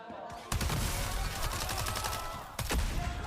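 Heavy shotgun blasts in the competitive shooter FragPunk, two sharp, loud reports about two seconds apart over a dense background of game action and rapid fire.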